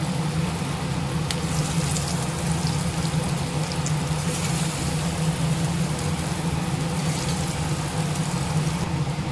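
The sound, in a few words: chundakkai kofta balls frying in hot oil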